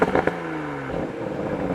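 Toyota MK5 Supra engine revs on a wet mountain road, a close tonal drone sliding down in pitch after a few sharp crackles.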